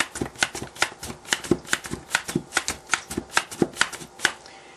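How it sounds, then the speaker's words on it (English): A handheld meat tenderizer pressed repeatedly into pork chops, making about sixteen quick, evenly spaced crisp clicks and thuds with no talk. "use my Denny food tenderizer here, meat tenderizer. Kind of push those in there."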